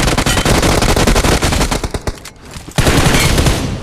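Loud rapid automatic gunfire in a shooter video game, a fast rattle of shots that thins out briefly in the middle and then resumes at full intensity, with no talking.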